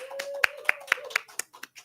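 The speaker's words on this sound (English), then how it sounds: "I'd like to give a round of applause to our talented tech master guru" A small audience claps at a talk, giving a short, thin round of applause with a handful of distinct sharp claps over a low steady tone.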